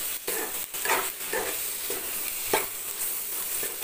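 Chopped tomato sautés in a pan for a ridge gourd and egg dish, a close crackling sizzle broken by repeated spoon strokes and light clinks against the pan.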